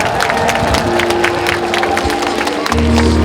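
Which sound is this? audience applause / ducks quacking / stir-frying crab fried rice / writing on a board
audience applause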